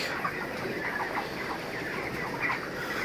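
A flock of 32-day-old broiler chickens on a farm gives off a constant, dense murmur of soft clucks and chatter, steady and close, with no talking.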